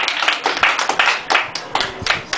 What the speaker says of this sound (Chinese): 然后请大家给我们掌声